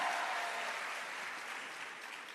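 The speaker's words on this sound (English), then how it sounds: "Please give her a round of applause as well." Sustained audience applause at a teachers' engagement session, a dense wash of many hands clapping steadily throughout, fairly loud and close, with no talking over it.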